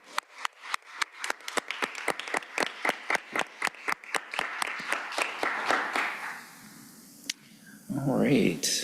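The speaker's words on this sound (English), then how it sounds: "just one more quick applause for Miss Sadie Dean" A board meeting audience gives a short round of applause, starting as sparse, distinct claps that quickly merge into a fuller patter before fading, followed by a brief thump and a voice speaking at the close.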